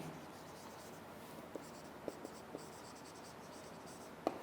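Chalk or marker writing on a classroom board, heard as a handful of faint scattered taps and strokes over quiet room hiss, with one sharper knock near the end.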